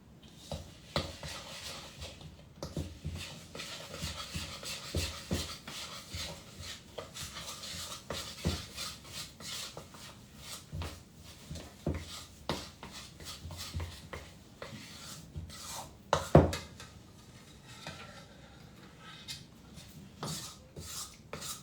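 Whole wheat bread dough being stirred with a spoon, a steady close scraping and rubbing with soft irregular scrapes throughout and one sharper knock near the end.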